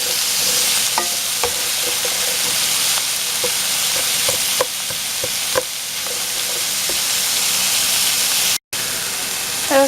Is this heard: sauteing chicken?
yes